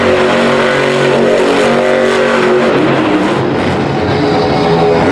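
The Zombie monster truck spins a donut in a Monster Jam stadium in Oakland, its big engine revving continuously and loudly through the whole stretch, a dense roar mixed with crowd noise and no clear talk.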